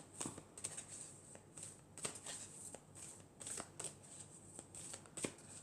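Oracle cards shuffled by hand, a soft, quiet, steady riffling patter with repeated sharp flicks of the deck, close by and without speech.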